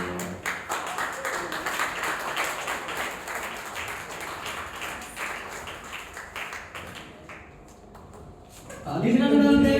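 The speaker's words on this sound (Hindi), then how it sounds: "ऐसे काम नहीं चलेगा, खड़ा होकर ताली बजाना पड़ेगा।" An audience at a stage event claps continuously, dense and irregular, for several seconds. The clapping thins out briefly, then a loud voice breaks in at the end.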